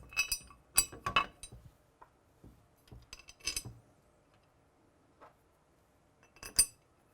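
Bolts and washers clink against metal parts while a 4-inch micro mount is assembled on a bench, with sparse metallic taps and clusters of clinks separated by pauses.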